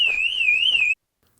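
The alarm on a Range Rover P38 sounds as a loud, close, warbling electronic siren tone held steadily for about a second and then cut off abruptly into silence.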